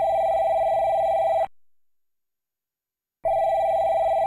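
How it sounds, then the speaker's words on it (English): A telephone bell rings loudly in a cartoon office, two sustained electronic rings separated by a short silent gap, heard alone with no talk. "answer the damn phone"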